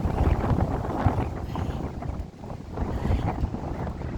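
Strong wind gusts buffet the microphone on a boat trip near Alness and Invergordon, a continuous loud rushing roar with low-frequency rumble and no voices.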